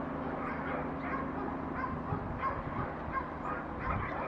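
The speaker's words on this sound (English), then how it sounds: "we can hear the dogs from the kennel at the end of the road" Dogs in a kennel down the road bark faintly and intermittently from a distance, the yaps thin and scattered over a quiet outdoor background.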